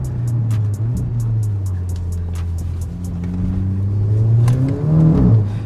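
A Skoda Laura fitted with a swapped 2.0L TSI engine revs while driving, a steady low drone from inside the car climbing in pitch toward the end as the engine pulls harder.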